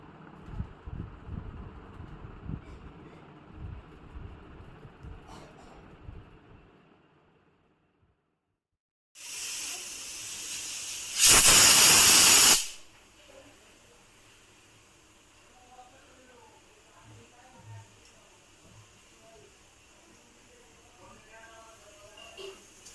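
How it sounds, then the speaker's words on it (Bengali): A pressure cooker on a gas stove lets off steam in one loud, harsh hiss lasting about three seconds that swells sharply partway through, set between stretches of quiet kitchen rustling and low background noise. "প্রেসার কুকারটাকে বন্ধ করে গ্যাসে বসিয়ে দেবো 2টো সিটি দেওয়া অবধি"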